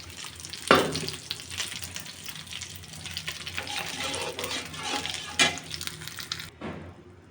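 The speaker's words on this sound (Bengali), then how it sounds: "ঝোলের পানিটা ফুটে উঠছে" The broth of a rohu fish kalia bubbles and sizzles in a pan after hot milk goes in, a steady, busy simmer broken by a couple of sharp utensil clanks.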